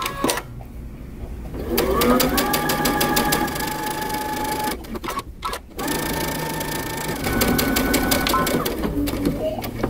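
A sewing machine stitches a T-shirt seam in fast, rhythmic bursts, pausing briefly before resuming, loud and close with no talk.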